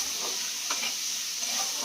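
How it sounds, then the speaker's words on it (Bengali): Whole spices and onions fry in a kadai still oily from frying eggplant, giving a steady, close, even sizzle and hiss with a few faint stirring scrapes and no voices. "গোটা মশলাগুলো ভালো করে ভেজে নিচ্ছে।"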